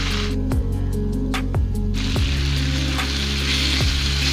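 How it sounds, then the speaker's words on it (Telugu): Prawns fry with spices in a pan, a steady close sizzle broken by periodic stirring scrapes and soft clicks against the pan, with a low background hum. "ఫ్లేమ్ని మీడియం ఫ్లేమ్లో పెట్టుకుని మరో ఐదు నిమిషాల పాటు మధ్య మధ్యలో కలుపుతూ ఫ్రై చేయండి"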